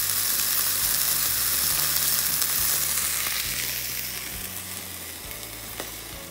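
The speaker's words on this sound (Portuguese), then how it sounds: "eu passo na frigideira só pra dar uma seladinha e ponho a carne" Burger bun and meat searing in a frying pan, a steady dense sizzle that holds loud and close throughout, easing slightly toward the end, with a low hum underneath and no talking.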